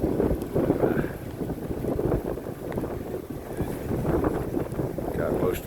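Heavy wind in Hamilton roars and buffets steadily across the microphone in winter weather, loud and continuous throughout.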